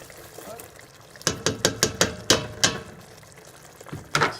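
Peas tumble into a cooking pan for a vegetarian dish, a quick run of about six sharp close clatters followed by a couple more knocks after a short pause.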